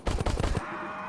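The Impaler electrical harpoon power-up firing in the VR game Crashland, a rapid burst of about five punchy shots in quick succession, then a fading buzzing tail, fairly close with no talk.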